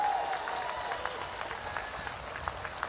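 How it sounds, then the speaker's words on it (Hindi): Scattered clapping from a crowd at a Rajasthan election rally, fairly faint and distant, with a brief tonal sweep at the start and background murmur. "ताली बजाओ जोर से एक बार"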